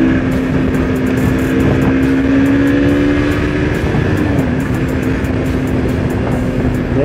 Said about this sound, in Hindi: अभी करते हैं ओवरटेक।